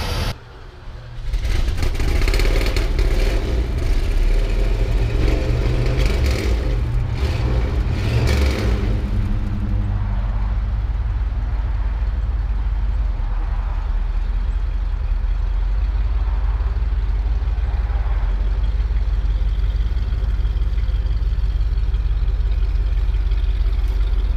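A 1969 Lincoln Continental with a 460 V8, carburetor float sticking, starts up and settles into a steady, loud, deep idle while warming up, with a few brief rises in revs early on before holding even.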